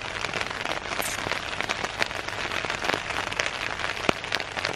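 Autumn rain in Sweden patters steadily on a surface close by, a dense, even crackle of drops with occasional sharper splats and no voices.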